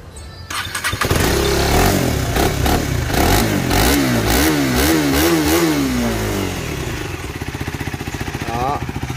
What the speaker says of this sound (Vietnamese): Bây giờ mình sẽ test nổ máy cho anh em nghe này